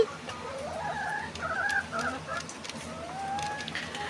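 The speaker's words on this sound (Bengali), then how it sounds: "এই লেয়ার মুরগিগুলো কিন্তু প্রতিদিন ডিম পারে।" Layer hens in a poultry flock clucking and calling in short, overlapping bursts at moderate distance, with soft background noise and little talk.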